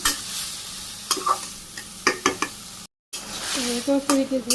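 Vegetables cook in a pan with a little water, a close frying sizzle broken by repeated quick clacks of a spoon stirring against the pan, briefly cutting to silence before the stirring resumes, with no talking.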